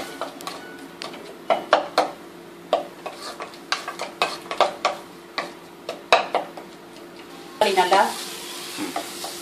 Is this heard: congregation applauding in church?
no